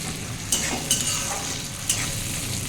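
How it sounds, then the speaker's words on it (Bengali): Steady sizzling of onions frying in a pan, with a few sharp clinks of a utensil stirring against the metal. "আমার পেঁয়াজটা ভাজা হয়ে গেছে"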